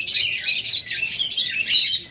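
Rainbow birds sold in pairs at a bird market chirp and tweet in a dense, continuous chatter of high, rapid calls, close and fairly loud, with no talking.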